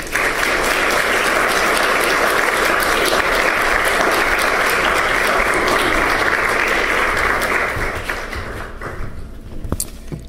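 An audience applauds a professor arriving to give a lecture on Indigenous archives: dense, steady clapping fills the room for about eight seconds, then thins out to a few scattered claps.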